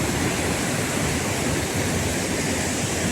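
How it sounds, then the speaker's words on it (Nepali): Khutkhute waterfall in the North ABC area, at about 3,133 metres, gives off a steady, dense roar of falling water that fills the whole stretch evenly with no voices. "नर्थ एबिसीको प्रसिद्ध एउटा एट्र्याक्सन पोइन्ट रहेको छ खुतखुते झरना"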